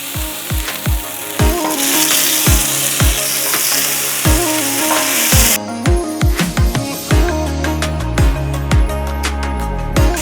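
Sauce-coated Daytona-style party ribs searing on a Halo Rime 1100 griddle at about 450 degrees, with loud close sizzling and repeated sharp scraping or flipping hits over background music.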